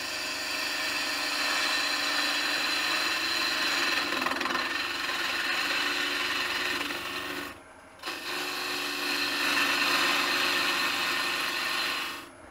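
A woodturning lathe cuts a hollow form with a steady, continuous scraping hiss from the tool on spinning wood, pausing briefly near the end before the cut resumes.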